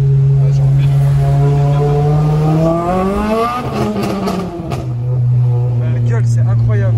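A Renault Clio 3 RS Cup with a catalysed exhaust revs hard, its deep idle climbing through a rising howl and dropping back to a steady burble, loud and close, with people talking over it.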